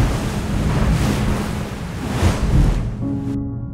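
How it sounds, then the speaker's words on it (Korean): A huge mass of water roars and gushes through a door in a dramatic SCP short film, a loud continuous surging rush that cuts off abruptly near the end. "순간 문 너머에서 엄청난 양의 물이 쏟아져 나왔습니다."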